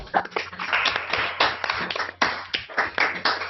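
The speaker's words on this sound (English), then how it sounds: "just click the button and give a good round of applause" Many participants in an online awards meeting clap over unmuted microphones, producing uneven, bandwidth-limited applause with bursts and dips and no talking.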